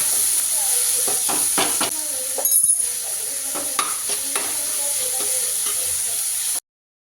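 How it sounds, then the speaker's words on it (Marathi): Onion, tomato, chili and crushed garlic sauté in hot oil, giving a loud, steady sizzle with repeated scraping stirs that recur every second or so before the sound cuts off abruptly near the end. "मस्त कांदा टांबाटा मिरची न ठेचलेला लसूण टाकून मस्तपैकी तेलावर परतवला"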